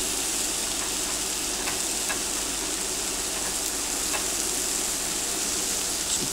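Cheese with a little onion fries in a Stoneline pan, giving a steady, dense sizzle with occasional tiny pops and crackles. It is close and continuous, with no talk.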